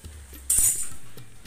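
Metal pots and dishes, including a tea pot, waiting at an outdoor tap to be scrubbed, give one sharp, bright clink followed by a ringing fade and small knocks, with no talking.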